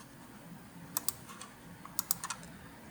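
Clicks on a computer while moving through options, a few sharp, quiet taps in two small clusters, close and otherwise still with no talk.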